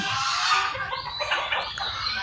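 Ducks and chickens on a small integrated farm that also keeps goats call out nearby: overlapping nasal honking quacks and fowl clucks in a continuous, fairly close chorus, with no voices.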